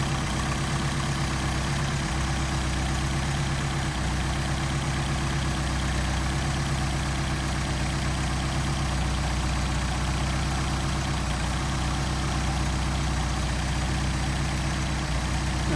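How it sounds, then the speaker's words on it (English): A Mercedes 190SL engine, warmed up and running on Solex carburetors, idles with a steady, even low rumble for the whole stretch, close and unchanging, with no talking. "you disconnect the throttle linkage so the carburetors are running independently of each other"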